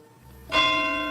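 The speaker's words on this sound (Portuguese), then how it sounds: "O sino plange em terna suavidade no ambiente balsâmico da igreja." A church bell inside a church is struck once softly, its bright ringing tone swelling and then sustaining evenly over a low, steady background.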